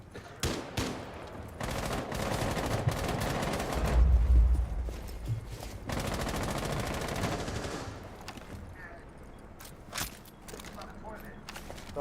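Gunfire from a Rainbow Six Siege match crackles in repeated bursts and single shots, with some rapid automatic fire, while a player talks over it.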